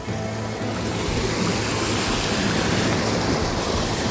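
Rushing floodwater pours through a dam near Ecatepec, a dense, steady roar of churning water without a break, loud and close, with some wind buffeting the microphone.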